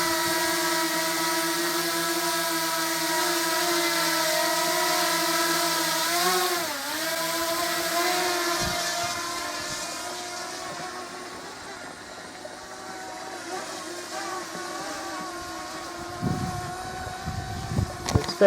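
Fimi Mini X8 V2 drone on its first flight outdoors in stiff wind, a steady high-pitched rotor whine that holds level, dips briefly as the pitch shifts, then carries on with gusts of wind noise.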